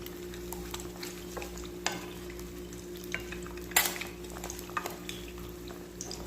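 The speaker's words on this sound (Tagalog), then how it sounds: "Mekos-mekos lang natin mga ka-recipe hanggang sa maluto yung ating itlog na piniprito." An egg frying in a pan gives a quiet, steady sizzle beneath a low constant hum, with faint scrapes and one brief sharper clatter of a utensil midway.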